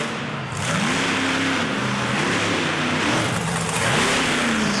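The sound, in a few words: Bigfoot monster truck engine revving as it comes out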